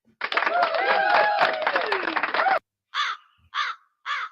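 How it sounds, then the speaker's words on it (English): Crows caw loudly and close by in a dense, overlapping burst of calls lasting over two seconds, followed by three short, separate caws with brief pauses between them; no talking is heard. "Damn crows."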